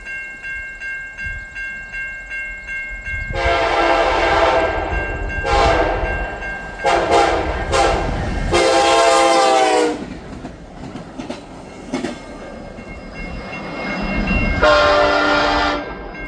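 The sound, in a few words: train passing with horn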